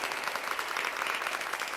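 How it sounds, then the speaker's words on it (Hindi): Audience applause at a poetry recitation: a brief, fairly faint burst of many hands clapping at once, steady and continuous. "एक बार ताली बजा करके बस शांति बनाइएगा।"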